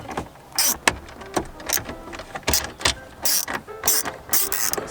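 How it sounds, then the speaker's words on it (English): A ratchet with a 7mm socket spins rapidly in quick bursts while loosening small bolts on a Jeep JK stereo dash, giving close, loud clicking runs separated by brief pauses. "we're gonna loosen these little guys up real fast"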